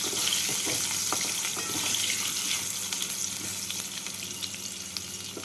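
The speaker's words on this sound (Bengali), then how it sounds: "আলুগুলোকে একটু লাল করে ভেজে নিচ্ছি" Potatoes fry in spiced oil for a fish curry with vegetables, giving a loud, steady, close sizzle with faint crackles throughout, easing slightly toward the end, with no voices.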